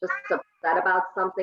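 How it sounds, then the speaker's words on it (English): An elderly 28-year-old cat yowls insistently for treats, several drawn-out meows in quick succession, close and loud, with a person talking over part of it. "That's a 28-year-old cat yelling at me because he wants treats now."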